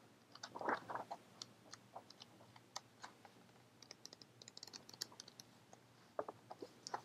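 Paper pages of a book being handled close up, a faint run of soft crinkles, taps and rustles scattered irregularly across an otherwise quiet background.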